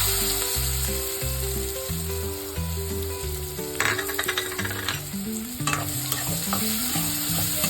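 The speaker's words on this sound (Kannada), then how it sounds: "ಆಮೇಲೆ ಸ್ವಲ್ಪ ಕರಿಬೇವನ್ನು, ಆಮೇಲೆ ಆನಿಯನ್ ಹಾಕಬೇಕು" Curry leaves and onion fry in a pan for Uttara Karnataka jhunka, a steady sizzle under repeated scraping and stirring of a spoon against the pan, close up, with sharper clatters now and then and no voices.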